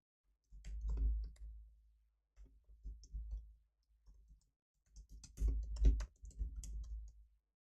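Rapid clicking and key taps on a computer keyboard come in several close bursts with short pauses between them, near and fairly loud, with no talk over them.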